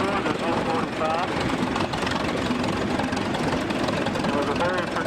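A fully restored vintage Caterpillar tractor with split, articulated track frames runs in a parade, its heavy engine rumbling loud and steady throughout while a voice talks over it.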